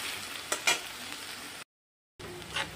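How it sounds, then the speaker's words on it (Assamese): Grated onion, garlic and chillies sizzle and crackle in a hot pan with a couple of sharp spits. The sound cuts out briefly to silence, then the steady frying resumes. "এইখিনি মই এতিয়া অলপ ৰঙাকৈ ভাজি ল'ম"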